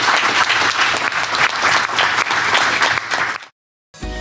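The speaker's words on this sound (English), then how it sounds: "join me in a round of applause for our panelists" A crowd at a dairy farming forum applauds panelists loudly and steadily, a dense wash of clapping that cuts off abruptly near the end.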